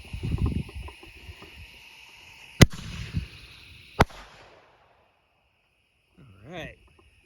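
Mini mortar fireworks from a consumer kit: two sharp, loud cracking bursts a second or so apart, with rumbling tails fading into quiet, then a short voice at the end.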